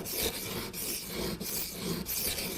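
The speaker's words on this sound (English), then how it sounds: "So I'll just keep grinding away until I get my bevel down to under 1 millimeter" A sharpening stone grinding a knife blade on an Edge Pro Apex system makes a close, gritty rasping, repeated in even back-and-forth strokes with brief pauses between them.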